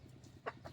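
A hatch cross gamecock rooster gives a single short cluck, fairly quiet and brief, against a low background hum.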